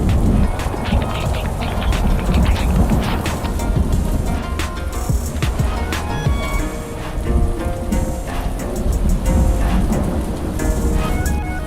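Heavy wet-season rain on Horn Island, Torres Strait, pounds down steadily and loudly, a dense hiss of drops drumming on surfaces close by without a break.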